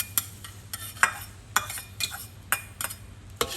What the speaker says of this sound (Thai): จากนั้นก็จะเจียวกระเทียมค่ะ